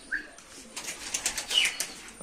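Young pigeons, released by hand, flap their wings in a short flurry of close, papery wingbeats, with faint chirps over quiet outdoor background.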